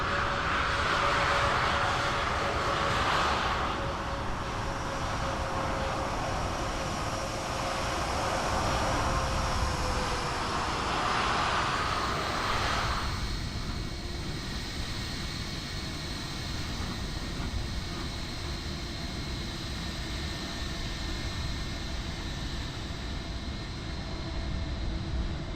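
An airliner on the Brussels flight in Microsoft Flight Simulator 2020 at Lisbon roars loudly and steadily, with a strong broadband rush that eases after about 13 seconds into a lower, continuous drone with faint whining tones.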